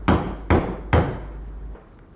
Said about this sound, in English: Rest the head onto your riveting tool. Center this piece and tap with a hammer.